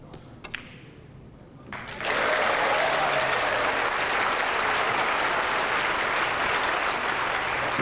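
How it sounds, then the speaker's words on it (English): A snooker crowd at the 1989 Hong Kong Gold Cup final applauds a century break. A few faint knocks come first, then sustained loud applause breaks out and holds steady to the end. "The crowd applaud a century,"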